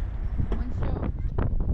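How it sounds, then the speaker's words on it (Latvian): Strong seaside wind in Liepāja buffets the microphone with a loud, continuous low rumble while a person talks over it. "Vējš vienīgi kā pie jūras, bet var jau bišķiņ paciesties."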